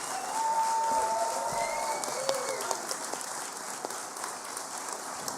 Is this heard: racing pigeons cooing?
no